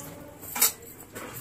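Utensils clink against a bowl as a chicken mixture is transferred: a sharp metallic clink, then a softer scrape, with no talk.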